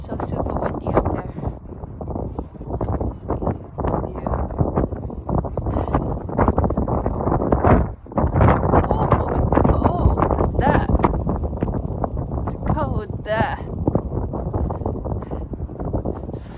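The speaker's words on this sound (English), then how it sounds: "Oh, it's so super windy up there." Strong gusting wind buffets the microphone on a castle lookout in Cesky Krumlov, a loud, rough roar that swells and eases continuously, with faint voices underneath.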